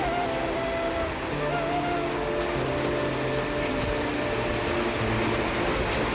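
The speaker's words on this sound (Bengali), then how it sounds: "প্রচণ্ড পরিমাণে, এখন তো খুবই জোরে আসলো বৃষ্টি। এই দেখো হাওয়াও দিচ্ছে তার সঙ্গে।" Heavy rain pours steadily with gusting wind, a dense, loud hiss and roar that fills the space continuously, with faint low hums underneath and no talk.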